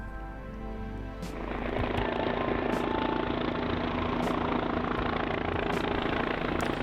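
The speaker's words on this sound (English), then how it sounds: "This was my first Bell 429 that I've seen in person. Pretty cool twin-engine aircraft." A Bell 429 twin-engine helicopter runs near a medical helicopter conference, a steady loud engine and rotor roar that builds after the first second and holds.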